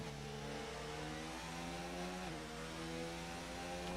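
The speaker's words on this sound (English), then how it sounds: "Get that engine nice and turned up" A Renault race car engine in a racing video game revs steadily at high pitch, a sustained buzzing drone with a brief gear-shift dip midway, heard alone.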